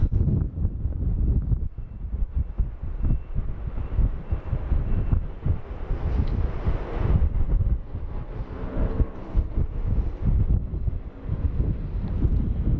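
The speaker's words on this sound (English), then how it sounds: "It is pretty windy up here." Strong wind at an airport buffets a microphone in low, rumbling gusts that swell and ease continuously, with no voices.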